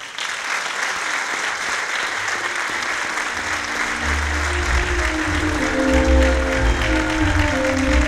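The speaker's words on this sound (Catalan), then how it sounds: "Acomiadem amb un fort aplaudiment a la nostra reina de la falla infantil any 2024, Irene Peiró Guillem" An audience at a falla presentation gives strong applause for the departing child falla queen, sustained close clapping that continues as low music swells in underneath partway through.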